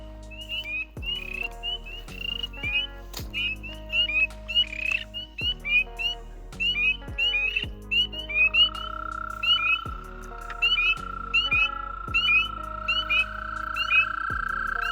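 Wild American toads give long, steady high trills at night, overlapping one another, with sharp pulsed calls and gray tree frogs mixed in; occasional low thumps and a brief voice come through nearby.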